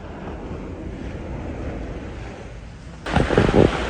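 Ocean waves wash steadily against a seaside bluff, a broad close hiss under wind, then a louder crashing splash bursts in near the end.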